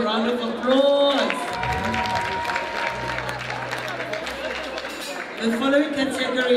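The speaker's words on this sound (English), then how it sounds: "Let's give them all a round of applause." Audience applause at a police provincial excellence awards ceremony, a broad wash of clapping in a large hall, with voices heard talking over it at the start and end.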